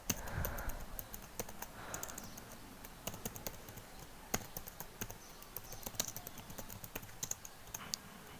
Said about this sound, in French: pour démarrer notre serveur, il suffit de taper cette commande